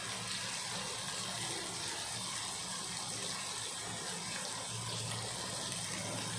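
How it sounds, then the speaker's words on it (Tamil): A continuous liquid gush as coconut milk is poured steadily into a pot, a smooth unbroken rushing sound at moderate volume. "தேங்காய் பால் 1 டம்ளர் ஊற்றுறேன்"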